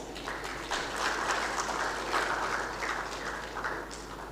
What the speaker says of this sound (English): A resounding round of applause as we welcome Commodore Hemant Khatri